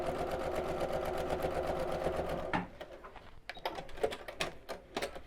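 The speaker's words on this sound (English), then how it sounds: "I think a little bit of top stitching gives a nice professional look to your work as well" A sewing machine top stitching layers of fabric for a fabric shopping tote runs in a steady, close whir for about two and a half seconds, then stops, leaving scattered light handling clicks and taps.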